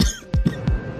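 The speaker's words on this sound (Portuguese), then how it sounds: "ele acorda tossindo sangue" A man coughing on waking, coughing up blood: three or four short, harsh coughs in quick succession, close and fairly loud, with no talk.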